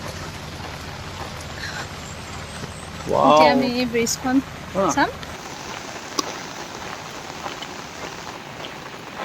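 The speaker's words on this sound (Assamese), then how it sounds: "মানে খুব বৰষুণ দি আছে, আমি ছাতি লৈ যাই আছোঁ" Heavy rain falls near Cherrapunji in Meghalaya, a steady, close hiss that runs throughout, while a person speaks briefly in the middle.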